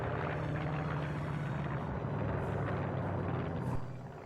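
Steady low propeller-aircraft drone overhead in the video game Arma 3, continuous and fairly loud, with a slight swell near the end before easing off.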